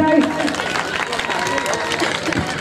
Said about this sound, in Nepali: जोरदार ताली बजाई